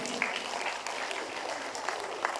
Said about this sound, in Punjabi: ਇਸ ਤਰ੍ਹਾਂ ਤੇ ਤਾਲੀਆਂ ਮਾਰ ਦਿਓ ਯਾਰ ਮੇਰੀ ਦੋ ਲਾਈਨਾਂ ਲਈ।